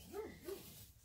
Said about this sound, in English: now you hear Chub Chub barking